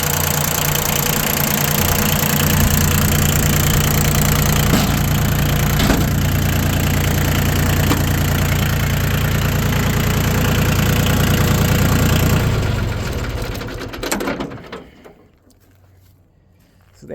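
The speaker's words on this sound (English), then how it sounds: "It's Yanmar, completely refurbished 4-wheel drive tractor." A refurbished Yanmar YM2010D four-wheel-drive compact diesel tractor engine idles with a steady, loud low rumble for about twelve seconds, then slows and dies away to near silence.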